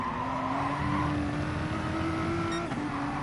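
A Group B race car in GT Sport at Spa Francorchamps, running behind a Peugeot in its slipstream: a steady, loud engine drone holding a rising pitch, with a brief gear-change dip near the end.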